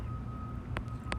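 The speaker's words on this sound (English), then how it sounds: "Sorry for the beeping in the background." A reversing truck sounds its backup alarm in the background, giving two short, sharp electronic beeps about a third of a second apart over a constant low rumble and a faint steady tone.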